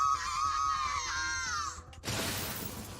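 A stricken Herrscher in the video game Honkai Impact 3rd lets out a loud, sustained, high-pitched scream lasting nearly two seconds, cut off by a sudden, harsh crash of shattering noise.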